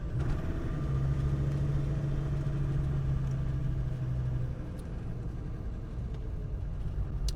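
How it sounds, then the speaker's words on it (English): A 1999 Land Rover Defender Td5 diesel climbs an icy, snowy road in fourth gear, its engine giving a steady, loud mid-range drone with a low hum, easing slightly in the second half, with no voices. "here we are going uphill in fourth gear"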